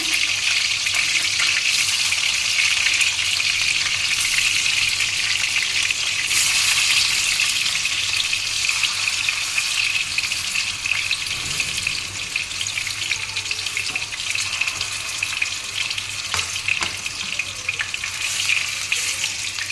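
Chital fish muitha dumplings fry in hot oil, giving a steady, close, dense sizzle with a faint bubbling edge that holds evenly for about twenty seconds, with no talking.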